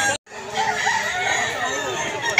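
A rooster crows loudly and close by at an open-air chicken market, with surrounding hens and bustle filling the background after a brief cut at the start.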